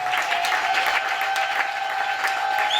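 Church congregation applauding during a Sunday service, a dense, steady wash of clapping and crowd noise that holds at an even level throughout, with a sustained tone running underneath.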